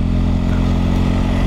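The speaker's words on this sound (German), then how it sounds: "die ersten Meter auf dem Motorrad" A motorcycle engine picked up by a helmet-mounted microphone gives a loud, constant rumble with steady low harmonics and wind noise, with no talking.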